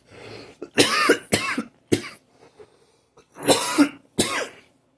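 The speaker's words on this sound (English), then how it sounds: "It sucks to have a cough that's like, I can't really feel it." A series of harsh, close coughs in several bursts, with short pauses and throat-clearing sounds between them.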